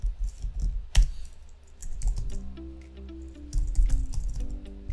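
Fast bursts of clicking keystrokes on a computer keyboard, close and clear, entering a number in short rhythmic clusters separated by brief pauses.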